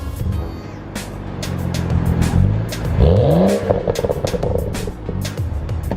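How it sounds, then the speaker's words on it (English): A BMW 335 engine idles loudly, then revs up sharply through the exhaust with a rising roar before settling back to a rumbling idle. "I'm gonna give it a few little revs"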